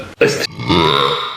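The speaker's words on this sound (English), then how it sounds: "Movie's even got me burping." A man lets out a loud burp, a short harsh blast followed by a longer rumbling eructation, with no other talk over it.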